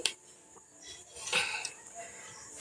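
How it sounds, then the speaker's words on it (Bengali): A plate picked up in a home kitchen during mango-leather preparation, giving a brief clink of crockery and a light scrape, close and fairly quiet with no talk. "এরপর আমি একটা প্লেট নিয়ে নিলাম।"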